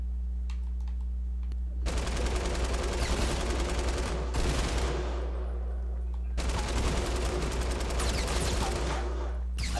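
Rapid gunfire bursts from the video game Fortnite crackle loudly in two long stretches, with a steady low hum running underneath throughout.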